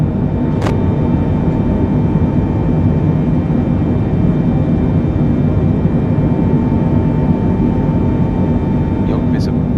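Steady, loud broadband drone of a Boeing 747 in flight in Microsoft Flight Simulator, on a Paris Charles de Gaulle to London Heathrow route, a continuous engine and airflow roar with one brief click near the start.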